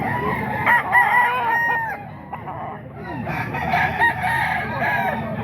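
A bull stag rooster about 18 months old crows loudly nearby, drawn-out calls rising and falling with clucking from other fowl in the background.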